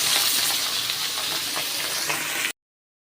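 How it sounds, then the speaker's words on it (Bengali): Pabda fish frying in hot oil, a steady dense sizzle with small crackles, close and fairly loud, running alone for about two and a half seconds before cutting to silence. "তেলটা গরম হলে মাছটা ভালো করে ভেজে নেব"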